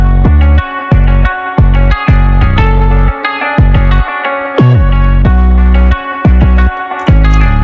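Nexus 08 Sub synth bass patch, dry with no effects, played as a loud, dense run of sustained bass notes with short gaps and rhythmic stabs, alone.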